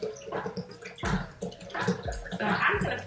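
Water pours from a bottle into a pot for fresh ginger tea, a close, steady gurgling splash with bubbling surges lasting about three seconds.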